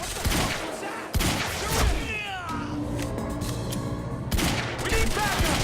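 Gunfire in the shooter Quantum Break, loud rapid bursts of shots and impacts mixed with sharp high squeals and cries, dense and chaotic throughout, with shouting voices.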